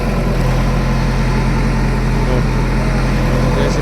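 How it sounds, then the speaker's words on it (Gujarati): A JCB backhoe loader engine idles with a steady, loud low-frequency rumble and constant throb that holds unchanged throughout, with no talk over it. "જેસીબી આખું અઘરું છે પણ આ ભાઈ તો દીપકભાઈ ડ્રાઈવર છે જો"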